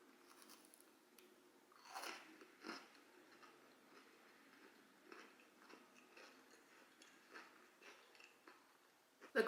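Quiet, close crunching bites and chewing of a crunchy chocolate chip cookie, with soft irregular crackles spread across the clip.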